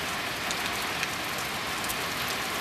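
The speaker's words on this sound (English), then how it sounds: "look, it's raining more." Warm rain falls steadily during a thunderstorm, a dense, even hiss of drops hitting surfaces, close and moderately loud with no talk over it.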